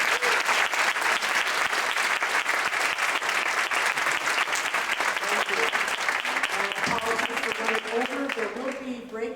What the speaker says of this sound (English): let's give everybody, I hope I didn't miss anybody, a round of applause